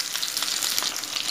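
Pomfret fish frying in oil in a kadai, a steady close crackling sizzle with dense popping spatters throughout, loud and continuous with no voices.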